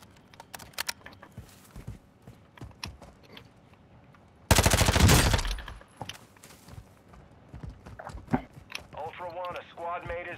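Rapid automatic gunfire bursts loudly mid-clip in a Call of Duty match, with scattered shots, clicks and game sounds around it and a radio-style voice speaking near the end.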